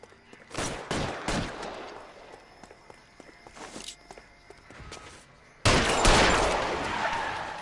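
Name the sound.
gunshots in L.A. Noire video game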